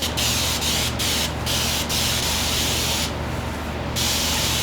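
Spray bottle misting water onto a wet, wavy headband wig, a series of loud, close hissing bursts, several short pumps followed by longer sustained sprays, with brief pauses between them and no talking.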